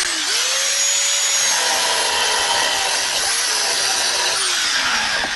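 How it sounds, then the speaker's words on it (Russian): An angle grinder cuts off excess roof rafter timber, whining loudly and continuously up close, its pitch dipping and recovering as the disc bites in. "Сейчас я Тёме подам болгарку, он обрежет."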